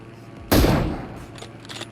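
A single loud, close gunshot in the mobile video game PUBG Mobile cracks sharply and then decays over about half a second. Faint, softer sounds follow.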